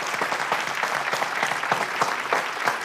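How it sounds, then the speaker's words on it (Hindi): Continuous, even applause from a studio audience on a couples' dance show during a Janmashtami-themed quarter-final, welcoming four pairs with a busy wash of claps throughout. "जोरदार ताली से स्वागत कीजिए हमारी चारों जोड़ियों का"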